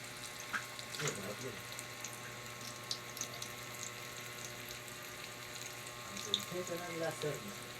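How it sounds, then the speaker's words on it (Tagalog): Water runs steadily from a tap with faint splashing as someone washes their face, while voices talk intermittently over it. "Paghihilamos na naman yun"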